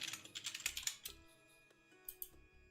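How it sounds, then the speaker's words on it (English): Typing an answer on a computer keyboard, a quick cluster of close key clicks at first, then a pause and a few scattered keystrokes, quiet and with no talk. "We'll just type it in."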